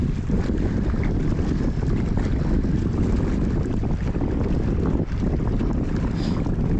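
Strong wind roars steadily against the microphone over open water, a dense continuous rush with no voices.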